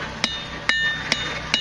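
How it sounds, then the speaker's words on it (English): Blacksmith's hammer striking hot metal at a materials camp demonstration, four sharp ringing clangs spaced about half a second apart, each with a bright metallic ring that fades quickly. "The angle of your hammer, you need to lift it up and hit it more like at this angle."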